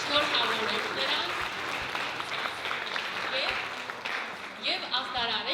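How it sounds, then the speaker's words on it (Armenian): Audience applause welcoming young children at an Armenian language arts event: a continuous wash of clapping from a roomful of people, with voices mixed in and chatter rising near the end. "Ուզում եմ նախ մի հատ բոլորս ծափահարենք, ողջունենք մեր փոքրիկներին"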